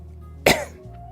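One person gives a single harsh cough, close to the microphone and loud, over a low steady background hum.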